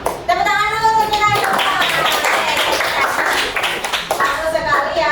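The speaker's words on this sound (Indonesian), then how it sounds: "Tepuk tangan dulu untuk kita." A classroom group claps together after their group presentations, brisk hand clapping with voices talking over it, the clapping fading as speech resumes near the end.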